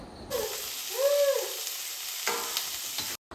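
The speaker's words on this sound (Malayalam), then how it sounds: "അപ്പോൾ ഗോൾഡൻ ബ്രൗൺ ആവുന്നത് വരെ നമുക്ക് ഇങ്ങനെ ഇളക്കി കൊടുക്കാം." Onions and garlic fry in a pan as a spoon stirs them, giving a loud, close, steady sizzle with scraping strokes and a brief hiss at the end.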